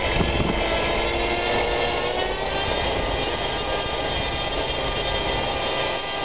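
A Park Zone F4U Corsair RC plane's electric motor spins a Master Airscrew 10x7x3 propeller at full throttle on a static test, giving a loud, steady, close whine and buzzing roar that holds without a break.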